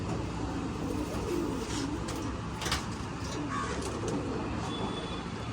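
Young Bazigar-bloodline pigeons coo softly in repeated low, rolling calls, mixed with faint chirps and occasional clatter against a constant noisy background.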